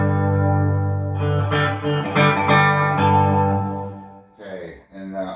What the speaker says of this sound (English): we're going to put the caverns on for some delay and some reverb